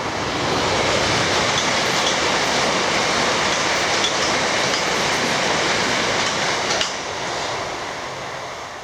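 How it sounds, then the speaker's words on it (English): A fast train, not stopping, passes close by near Stonegate: a loud, steady rushing roar that fills the whole stretch, then eases off slightly toward the end. "I just heard a train hooting, so there you go. it will pass any second."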